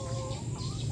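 Laying hens on a small home-scale integrated farm cluck in a close, busy flock, a steady overlapping murmur of clucks with no talk.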